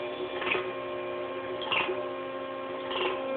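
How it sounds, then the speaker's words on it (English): A waste vegetable oil filtration pump running low on oil hums steadily and loudly, with a hollow sucking surge recurring about every 1.2 seconds as it draws air. "You can usually hear the pump when they're starting to get low"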